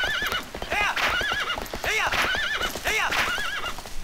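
Epona the horse in Twilight Princess, repeated high whinnies and neighs over clip-clopping hoofbeats, close and loud, with some speech alongside.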